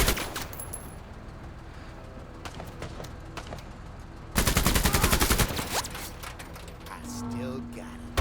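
Gunfire in the tactical video game MENACE: scattered shots early on, then a dense, loud burst of rapid fire around the middle, with fainter game sounds and a voice in the background afterward.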